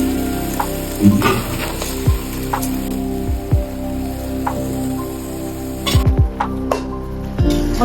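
Prawns and spice paste frying in a pan for a red amaranth leaf curry, giving a continuous crackling sizzle broken by occasional clinks and knocks of a utensil against the pan, close up with no talking.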